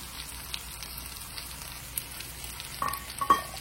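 Curry ingredients sauté in a pan with a steady low sizzle, punctuated by a few soft scraping stirs and clinks near the end.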